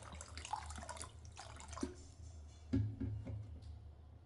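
Water runs and drips into an earthen pot for boiling prawn heads for a Goan fish curry, a low steady flow with a few brief splashes and clinks, moderately close.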